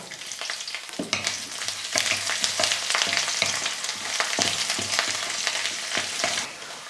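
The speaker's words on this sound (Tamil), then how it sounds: "5 பெரிய பல் பூண்டை எடுத்து இது போல் பொடியாக கட் பண்ணி வச்சுருக்கேன், அதையும் சேர்த்துக்கிறேன்" Chopped garlic hits hot oil with curry leaves in a pan while making a Tamil dry fish gravy, giving a loud, steady sizzle with crackling pops and occasional stirring scrapes throughout.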